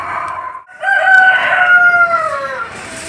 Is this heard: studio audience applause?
no